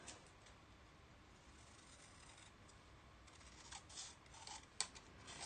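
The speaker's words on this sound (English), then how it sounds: "Let's cut it out." Scissors snip through paper for a planner page, a soft steady run of quiet cuts with a few sharper clicks near the end, close and faint with no talk.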